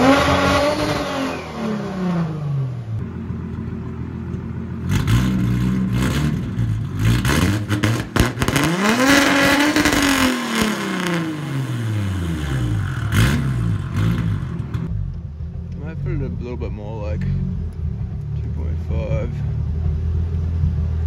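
A Nissan Laurel's turbocharged RB20ET engine revs repeatedly, the pitch sweeping up and down through several loud pulls and cutting against a low rev limiter, with a rough idle settling between bursts.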